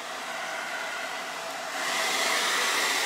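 A hair dryer blows steadily up close, drying glitter on a Halloween napkin craft, with a continuous whooshing roar that grows slightly louder partway through, no talking.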